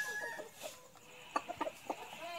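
Free-range cockerels give several short, sharp clucks in quick succession, fairly near, over a quiet farmyard background.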